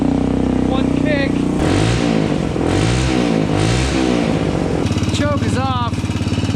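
Travis Pastrana's Suzuki motorcycle, carburetor just refitted and choke off, fires after one kick and revs in loud rising and falling bursts, the engine note close and rough, with a higher whine toward the end.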